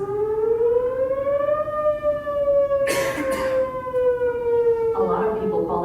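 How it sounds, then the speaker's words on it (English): Outdoor warning siren, commonly called a tornado siren, in North Texas: one loud sustained wailing tone that rises, holds and slowly falls. A brief burst of noise sounds partway through, and rougher sound joins near the end. "A lot of people call that noise a tornado siren, but it's actually an outdoor warning siren"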